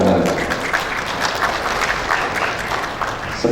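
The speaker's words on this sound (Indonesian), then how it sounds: "Tepuk tangan." Applause from the audience at a dental graduation and oath ceremony for new dentists, a dense sustained clapping of many hands filling the hall at steady loudness.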